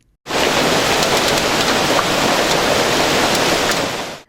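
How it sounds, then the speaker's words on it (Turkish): Heavy downpour of rain mixed with hail in Elazığ, a dense, loud, steady roar of water that fills the whole clip with faint brief ticks of impacts, no voices. "Bir anda bastıran şiddetli yağmur ve doludan göz gözü görmedi."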